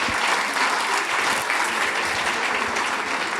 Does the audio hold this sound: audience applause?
yes